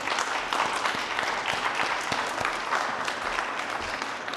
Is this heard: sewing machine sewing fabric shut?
no